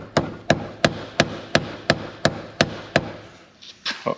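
A hammer taps nine times at an even, fairly quick rhythm against a rusted, seized part on a Toyota Venza AWD rear differential, each strike sharp and close, followed by a pause and a couple of softer knocks.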